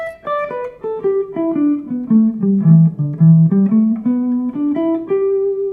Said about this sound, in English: then I'm going to play D Mixolydian.